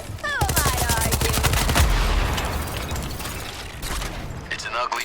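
Rapid automatic gunfire rattles loud and close in the video game Suicide Squad: Kill the Justice League, a dense burst that fades into scattered shots and mechanical clatter, with a voice briefly audible.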